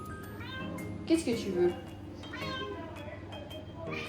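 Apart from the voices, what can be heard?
cat meowing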